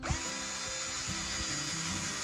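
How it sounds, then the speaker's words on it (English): A power drill whirs steadily while pre-drilling holes in a piece of lumber, a high continuous whine with short bursts and pauses in speed, fairly close. "I'm pre-drilling a couple of holes in this piece of lumber now"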